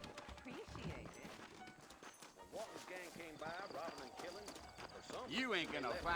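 Saddled horses clip-clop in the Red Dead Redemption video game, soft hoof steps mixed under someone speaking and faint background music.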